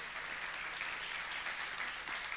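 Sustained audience applause at a live Argentine event after a new car is won as a prize, a dense steady wash of clapping with no voices over it.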